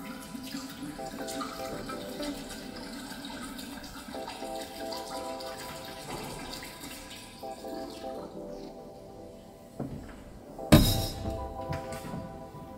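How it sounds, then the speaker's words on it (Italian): Red wine glugs from a bottle into a container for sangria, a steady liquid pour running under faint background music before a louder splash and clatter near the end. "Versiamo la nostra bottiglia di vino rosso."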